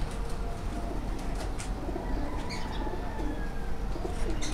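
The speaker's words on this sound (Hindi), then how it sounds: "ये सामने खालिद भाई पकड़ पकड़ के वो कबूतर ला रहे हैं" Domestic pigeons coo repeatedly as they are caught by hand and carried out, with soft throaty calls rising and falling over a constant background, sharp chirps and a faint flutter mixed in, nobody speaking.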